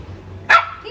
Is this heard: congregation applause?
no